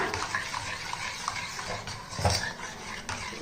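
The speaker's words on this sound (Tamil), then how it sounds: "இப்போ இதை எல்லாத்தையும் நல்லா மிக்ஸ் பண்ணிக்கிடுவோம்ப்பா" Ragi milk mixture with cardamom and jaggery being stirred in a pot, giving a steady scraping and swishing with faint utensil clinks, close and continuous with no talking.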